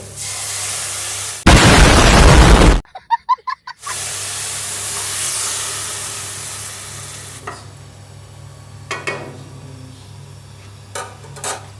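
Boiled red lentils hit a hot frying pan with a loud, sudden sizzle, followed by sharp popping bursts and then a long, steadily fading fry with occasional stirring clinks.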